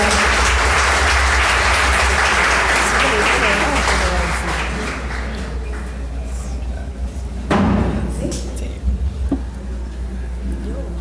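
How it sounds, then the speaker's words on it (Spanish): A large audience at an international Catholic charismatic assembly gives loud, sustained applause that gradually fades, followed by a few scattered claps and some room noise. "Démosle un fuerte aplauso."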